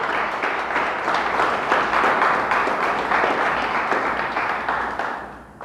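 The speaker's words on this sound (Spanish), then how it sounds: "Dele fuerte el aplauso al Señor" A church congregation applauds loudly and continuously at a worship service, a dense, even wash of many hands clapping that fades slightly at the end, with no speech over it.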